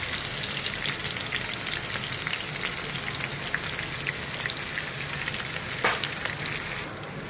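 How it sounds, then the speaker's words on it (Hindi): Chopped onion sizzling and frying in hot oil in a karahi, a steady dense crackle close by with no talk over it. "ऑयल के अंदर ये मैंने एक अदद प्याज लिया था, प्याज डालूँगी।"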